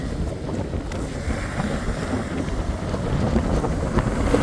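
Strong wind buffets the microphone on a beach with a steady, loud rumbling roar that builds slightly toward the end; no voices.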